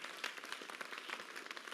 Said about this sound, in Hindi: उनके लिए जोरदार तो ताली होनी चाहिए